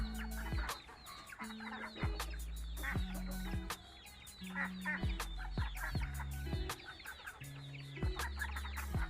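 Hens clucking and squawking in a backyard coop also holding ducks, laying hens and fighting cocks, repeated close calls in uneven bursts over a low background hum.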